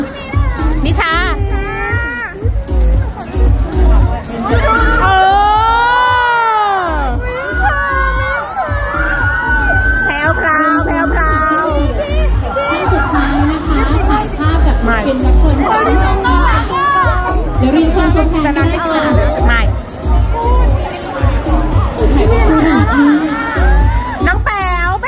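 A loud indoor crowd at a lipstick launch event in a shopping mall cheers and shouts continuously, with high excited voices and a host speaking over the din throughout.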